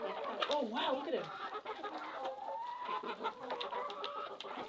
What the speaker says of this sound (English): So the chickens cluck when they're happy like that.